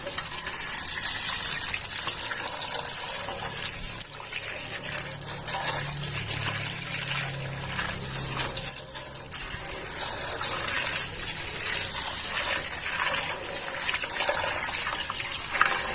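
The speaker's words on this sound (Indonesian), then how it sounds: "Cuci tungkunya, heat exchanger-nya ini." Water gushes and splashes steadily over the burner and heat exchanger of an old National gas water heater during cleaning, a continuous close rushing wash with no talk.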